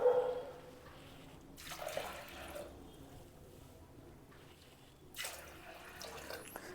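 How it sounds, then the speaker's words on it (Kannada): Water is poured into a pot of sprouted horse gram to cook it, with two short gushing splashes in an otherwise quiet kitchen. "ಇವಾಗ ಬೇಯೋದಕ್ಕೆ ಎಷ್ಟು ಬೇಕಷ್ಟು ನೀರು ಹಾಕ್ಬೇಕು."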